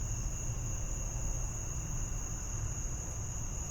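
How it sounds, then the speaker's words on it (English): Crickets chirp in a steady, continuous high-pitched trill, loud and close, with no voices over them. "Crickets."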